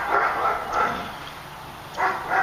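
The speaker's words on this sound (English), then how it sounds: "I hate a yapping dog like that" A small dog yaps in short bursts of two or three sharp barks, separated by brief pauses, moderately close against a quiet background.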